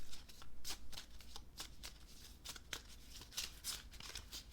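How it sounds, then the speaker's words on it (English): A deck of oracle cards is shuffled by hand, producing a quick run of crisp riffling bursts and soft card slaps, close and clear with no talking. "let's give them a nice little shuffle"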